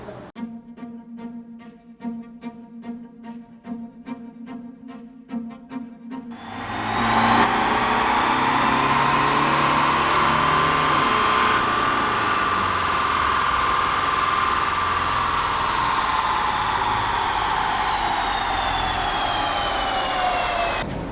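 A car recalled for its EGR system, missing an OBD update, runs on a dynamometer during a power output test. It first idles with an even, rhythmic pulse, then revs into a loud, sustained roar with a rising whine.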